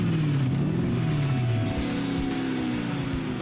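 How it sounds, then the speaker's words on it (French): A Ferrari V8 engine drones and revs with a throaty, buzzy, motorbike-like tone, rising and falling in pitch, loud and close, with no voices. "ça fait un bruit de moto, ce qui est bizarre pour un moteur Ferrari"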